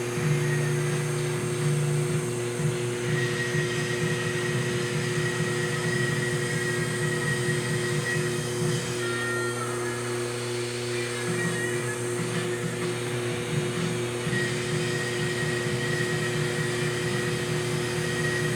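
Blowtorch flame roaring steadily while drying the outer shell of a piece turning slowly on a spinning wheel, a continuous near broadband hiss with a low hum beneath, no talk.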